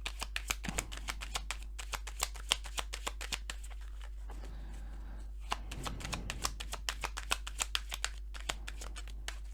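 Playing cards are shuffled and riffled close by in a rapid series of crisp flutters, with a longer crackling shuffle midway, under soft background hum and no clear talk.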